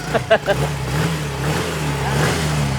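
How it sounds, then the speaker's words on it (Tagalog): A Yamaha Mio motor scooter engine runs at a steady idle after a fuel pump and gear repair, a close, continuous low hum with a few brief rev blips at the start, with speech over it. "Umaandar na yung motor ni boss at syempre normal na yung kanyang fuel pump."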